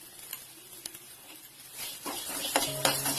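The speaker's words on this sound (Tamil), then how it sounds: "கட்டி பெருங்காயம் எல்லாம் சேர்த்து நம்ம மிக்ஸ் பண்ணிக்கலாம்" Chunk asafoetida and pepper being stirred into a pan for traditional Tamil pori rasam, a scraping, rustling stir over a soft sizzle that grows busier and louder toward the end.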